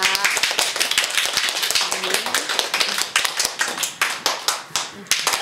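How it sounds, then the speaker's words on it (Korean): Brisk, uneven clapping by a small gathering of people honouring elderly women receiving diplomas from a Korean literacy class at a branch school, close and loud, with voices mixed in. "졸업장을 받으시면 다른 분들은 큰 박수 부탁드리겠습니다"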